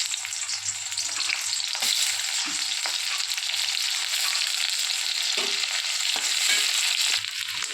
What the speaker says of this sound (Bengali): এবার আমি কুচানো পেঁয়াজগুলো কড়াইতে দিয়ে দেবো।